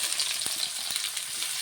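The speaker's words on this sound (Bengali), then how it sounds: "এর মধ্যে এবার পেঁয়াজগুলো তেলের মধ্যে ভেজে নেব" Onions frying in oil in a pan, a short stretch of bright, even sizzling close by with a few soft knocks and stirring sounds, and no talking.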